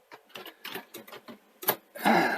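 A Sony SL-C30 Betamax front-loading mechanism draws in a tape with a run of close mechanical clicks and whirring motor steps, ending in a louder grinding whir as the cassette seats.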